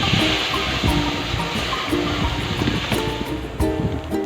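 Masoor lentil dal boils in a pot with a steady, hissing bubble and frequent small pops and splutters, close and fairly loud throughout.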